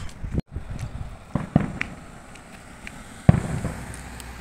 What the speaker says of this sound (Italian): ci sono fuochi d'artificio